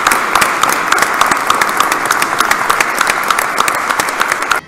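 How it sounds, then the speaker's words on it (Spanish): A crowd honouring volunteers in Almodóvar del Campo applauds loudly with many close, sharp hand claps in a dense, sustained burst that cuts off abruptly at the end. "Un aplauso para ellos."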